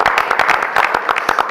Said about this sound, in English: I'd just like to offer a round of applause.